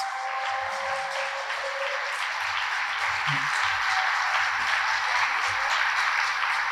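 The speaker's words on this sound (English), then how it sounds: "big round of applause for all of our finalists" Applause at a New Zealand children's and young adult book awards ceremony honouring the finalists: a broad, sustained crowd clapping that fills the hall at a steady, fairly loud level, with faint voices underneath.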